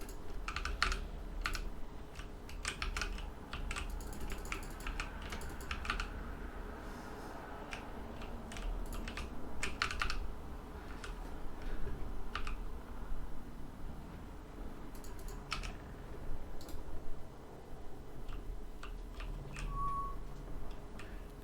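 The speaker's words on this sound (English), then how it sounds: "I'm just a little bit of keyboard mashing here" Soft clicks and clacks of a computer keyboard being typed on and mashed during World of Warcraft play, continuing steadily as irregular close-up taps over a faint constant hum.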